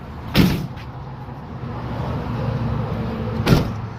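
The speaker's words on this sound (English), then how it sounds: "Shut your doors and you're on your way." Two solid door slams of a 2010 Ford E-250 wheelchair van about three seconds apart, close by, over a low steady idle hum.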